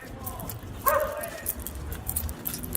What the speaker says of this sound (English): I don't trust this dog right here.